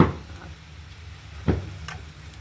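Spices and fish frying in a pan, a steady low sizzle with a couple of soft stirring clinks and scrapes, close and fairly quiet with no talking.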